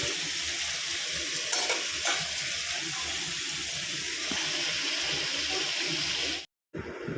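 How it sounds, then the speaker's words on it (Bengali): Paneer pieces frying in oil in a pan, a continuous soft sizzle with light stirring scrapes, ending in a brief cut of silence. "তারপরে পনির ভাজছি"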